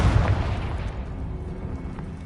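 Confringo spell blast in the video game Hogwarts Legacy: a loud, low booming burst at the start that rolls into a rumbling decay over the next two seconds, with no voices over it.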